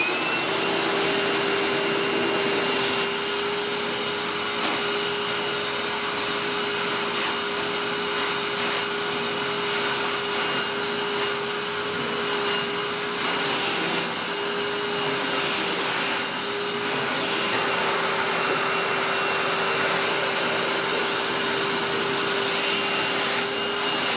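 A Hoover Tempo Widepath vacuum cleaner with an upholstery tool runs steadily and loudly throughout, a constant motor whine with a hissing airflow, shifting slightly as the nozzle moves.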